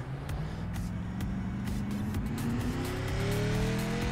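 SK Modified race cars in the iRacing simulator at Martinsville: a loud engine drone that rises steadily in pitch as the car accelerates, with intermittent sharp bursts and a gritty rasp throughout, with no talking.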